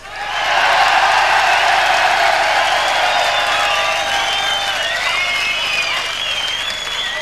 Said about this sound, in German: verabschieden Sie mit einem wahnsinnigen Applaus